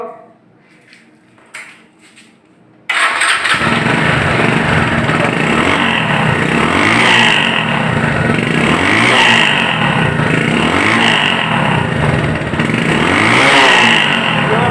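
A Bajaj Discover 135cc motorcycle starts after a quiet pause of about three seconds, then idles with a steady, even, loud engine note close by, running alone.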